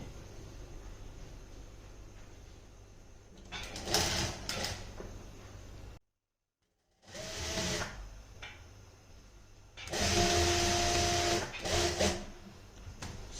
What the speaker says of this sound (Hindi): यहाँ पे हम सिलाई लगा देंगे।